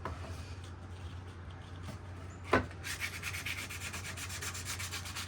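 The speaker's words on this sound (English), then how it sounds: "So I just have a little piece of 80 grit sandpaper." Sandpaper of 80 grit rubbing along the edge of a wooden flag piece, giving it a round over. Steady close scratchy strokes run throughout, with one sharper knock partway and a busier rasping rhythm toward the end, with no talking.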